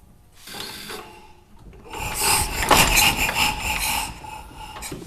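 A roughly 100-year-old car engine cold-starting with the choke on: quiet at first, then a rough, rasping run catches at about two seconds and holds loud and close.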